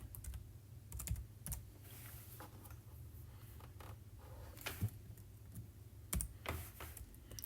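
C++ code is typed on a computer keyboard in quick, irregular bursts of close, crisp key clicks, quiet against a low steady background hum, with no speech.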